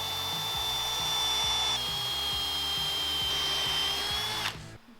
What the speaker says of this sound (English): I'm going to secure it by drilling through here, put a couple screws real deep to catch the other part